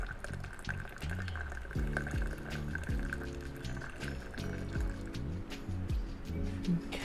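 Grape juice dripping and trickling out of a tube into a container, a steady liquid patter with irregular gurgles and drops, close and moderately loud with no voices.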